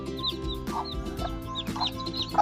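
Hens cluck and newly hatched chicks peep in a backyard coop, steady and close, with higher chirps scattered through the soft continuous clucking.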